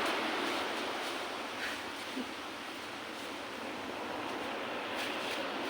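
Steady ocean surf washes in a broad, hissing roar, waves rolling continuously with no voices.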